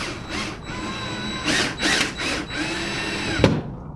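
A power drill drives screws into a shade mounting bracket in several short, slow bursts of whirring with pauses between, followed by a sharp clunk.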